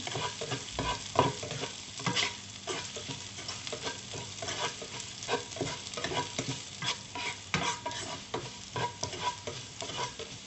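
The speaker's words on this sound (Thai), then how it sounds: "พริกแห้งที่เราเตรียมไว้ คั่วไปให้มีกลิ่นหอมนะคะ" Dried chilies dry-roasting in a pan for a stir-fry, with constant busy stirring and scraping against the metal over a light crackling sizzle, close and continuous, no voices.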